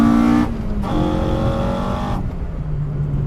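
A Toyota 4AGE engine fitted with 50mm intake trumpets surges at around 5,500 RPM, giving a loud, sustained, close-up engine howl whose tone shifts abruptly partway through and then eases off.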